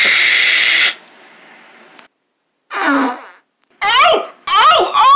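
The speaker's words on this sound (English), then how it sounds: "Wait! That's right. I did fart." A loud, sputtering fart opens the clip, followed after a pause by excited children's voices exclaiming.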